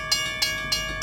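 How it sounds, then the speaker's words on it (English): A train passes nearby, with rhythmic clacking pulses spaced about a third of a second apart over a steady tonal hum. The sound is brief and fairly faint. "When the train comes, Sarah suddenly gets out of the car and starts running."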